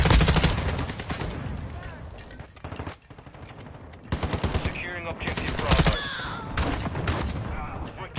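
Rapid, loud bursts of shotgun and other gunfire crack through an online multiplayer shooter match, with repeated close blasts over dense game noise and voice-chat chatter throughout.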